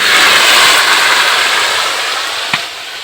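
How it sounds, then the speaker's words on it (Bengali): Potatoes fry in a pan, producing a loud continuous close sizzle and hiss that stays dense throughout, with one brief knock near the end. "এই আলু আমি ভেজে নিচ্ছি।"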